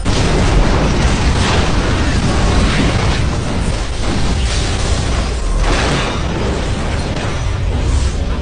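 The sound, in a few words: explosion in a restaurant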